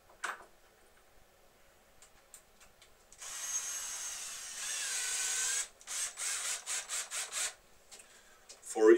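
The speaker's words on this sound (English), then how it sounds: "For easy access, so just put on the slight chamfer" The edges of holes in a drill guide are chamfered with a hand tool, producing a long steady grinding rasp followed by a run of short rhythmic strokes, close and fairly loud.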